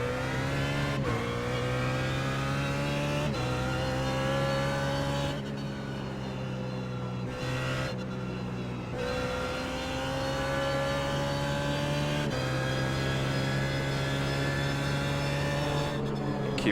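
A BMW Z4 GT3 race car engine drones loudly at Sonoma in a racing video game, holding a steady high pitch with several quick dips and rises as gears shift, alone without talk.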